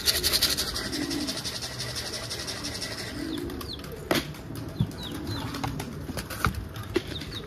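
Young pigeons flap their wings while landing, a loud burst of wingbeats at first, then scattered flutters, coos and sharp knocks nearby, with a man calling softly at times.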